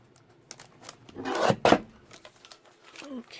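Scissors cutting through a book page for a handmade envelope, giving a few close, soft rasping snips with a louder burst in the middle, while a person talks quietly.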